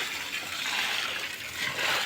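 Water gushing steadily from a hose or pipe into a garden plant bed, a continuous hissing splash held at a fairly even level throughout.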